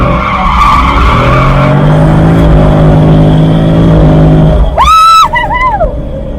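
A C6 Corvette revs through a drift, its engine note droning and climbing loudly before a sharp burst of screeching tire squeal near the end, then settling back to a lower rumble.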